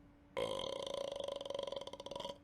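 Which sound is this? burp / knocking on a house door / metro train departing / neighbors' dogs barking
burp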